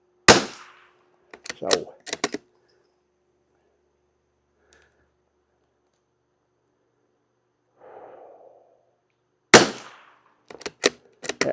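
A Savage Mark II FV rifle fires cheap target ammo, two sharp close reports about nine seconds apart, each trailed by quick clicks and softer knocks, with a brief voice between them.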